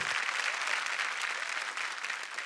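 An audience on a Marathi TV game show bursts into loud, sustained clapping for a grandmother contestant, dense and steady throughout.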